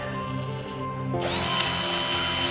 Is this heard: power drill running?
yes